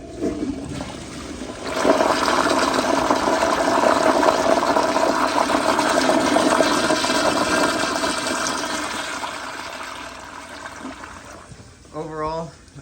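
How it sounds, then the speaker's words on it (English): A 1994 Kohler Wellworth Lite toilet flushes with the handle held down, a loud close rush of water lasting several seconds before tapering off into a gurgle near the end. "I'm going to hold down the handle for this flush."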